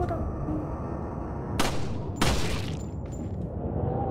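Gunfire in the PC game Resident Evil 4, heard as two sharp, loud shots about half a second apart over a steady background rumble of game ambience.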